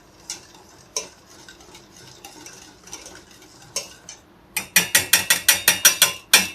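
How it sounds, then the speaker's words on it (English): A whisk in a pan of bechamel white sauce: scattered scrapes and clicks, then a quick run of about ten loud rhythmic metallic strokes near the end. "I just keep whisking it because I don't want it to catch or stick to the bottom."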